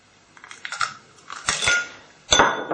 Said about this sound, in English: I'm going to use my little sort of hand whisk here, just to try and make it a bit frothy really